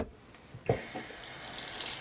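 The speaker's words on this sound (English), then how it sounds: "Let's try out our new faucet." A newly installed kitchen faucet is turned on, releasing a steady rush of water into the sink after a brief quiet moment; the flow stays loud and constant with no talking.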